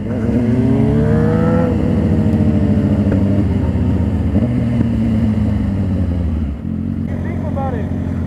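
A motorcycle revs hard and loud up close, its engine note rising and falling with crackling exhaust pops, while riders talk over it.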